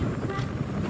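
Strong wind rumbles and buffets the microphone in a brief, dense burst of low roaring noise beside harvested rice fields.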